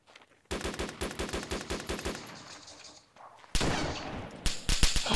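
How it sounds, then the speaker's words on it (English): Enemy gunfire in the Arma 2 Wasteland game, rapid bursts of automatic fire in repeated volleys with a short lull, then sharper, louder shots close by. "Look at Ryan taking fire, enemy fire"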